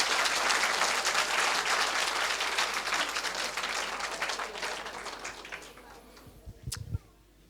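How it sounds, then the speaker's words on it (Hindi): Audience applause at a Sanskrit quiz during the Mahakavi Magh festival, loud crowd clapping that gradually thins and fades, ending with a few thumps and a sharp knock. "तो एक बार मेरे लिए भी तालियां बजा दीजिए"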